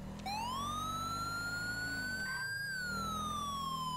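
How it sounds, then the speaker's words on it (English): Wailing police siren on a Ford Explorer patrol vehicle in GTA 5 LSPDFR, a loud continuous tone rising and falling in a slow sweep over a low engine drone. "I'm turning off our siren right now."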